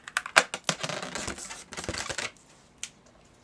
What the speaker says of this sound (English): Right above the knot, I'm gonna cut it.